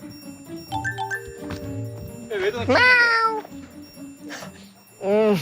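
A cat meows several times, with high wavering cries close by, mixed with clinks and voices talking nearby.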